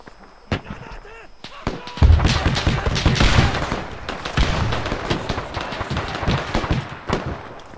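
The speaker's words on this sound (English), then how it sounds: "Artillery down, artillery down." Artillery blasts and gunfire in a D-Day combat video game, with scattered sharp shots giving way to a dense, rumbling barrage of explosions and crackling fire, while voices talk over the noise.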